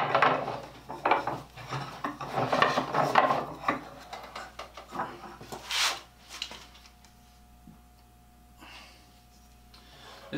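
A draw knife shaving a piece of pine, a run of rough rasping strokes up close for several seconds, followed by a few scattered, quieter scrapes and knocks.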